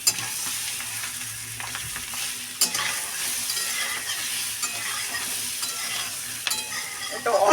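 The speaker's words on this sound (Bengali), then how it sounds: "অল্প তেল দিয়ে ভাজতে হবে" Prawn heads fry in a little oil over a very low gas flame, giving a steady close sizzle with stirring scrapes and a sharper clatter partway through.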